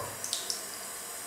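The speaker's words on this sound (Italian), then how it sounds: "faccio andare via l'acqua dal mio lavandino, sciacquo la saponetta e la mano" A bathroom sink tap runs with a soft, steady hiss of water, faint and continuous for about a second, with a few small splashes near the start.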